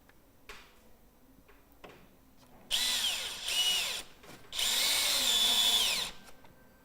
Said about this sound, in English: you can tighten up the screws